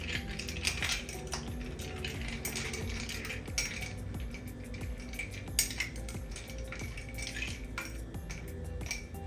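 A spoon clinks and scrapes steadily inside a glass while stirring a mojito, a close, busy rattle of metal on glass with small splashy taps and no talk.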